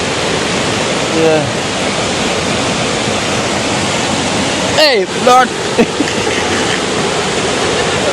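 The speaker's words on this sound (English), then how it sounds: "Listen to the river sound a bit." A river rushes in a constant loud, full wash of flowing water that fills the whole stretch, with a voice speaking briefly and exclaiming partway through.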